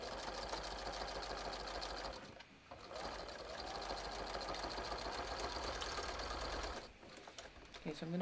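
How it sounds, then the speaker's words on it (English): A sewing machine stitches bathrobe shoulder seams in a continuous close whirring run, briefly slowing once before stopping near the end, with a voice talking over it. "I'm going to sew my shoulder seams using a 3/8 inch seam allowance"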